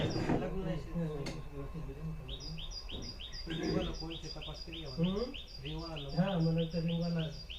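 Morning birds chirp in quick repeated high calls from nearby while people talk and chatter underneath throughout.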